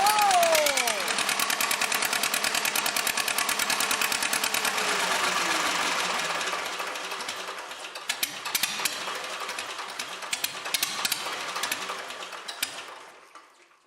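A Lamborghini tractor engine catches and runs after its fuel lines are bled, a loud close rapid chugging that settles into a steady idle, then quietens with a few clicks before cutting off.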